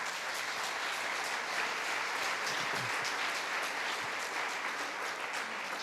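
A church congregation claps steadily for several seconds during a sermon, a dense, even wash of applause that stays at a constant level throughout.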